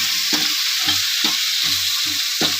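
Small onions sizzle steadily in a pan for a village-style mutton curry, with about six distinct stirring strokes scraping through in an uneven rhythm, close and fairly loud, no voices.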